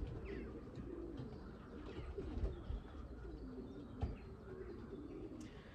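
A racing pigeon coos softly and repeatedly in a loft, low murmuring calls running through the whole stretch at moderate distance, with faint chirps and a brief wing flutter in the background.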